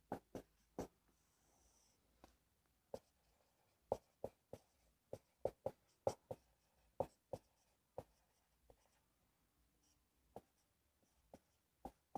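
Pen strokes as a chemical formula is written out, a series of sharp, quiet taps and short scratches at an uneven rhythm, close and alone in a hushed room.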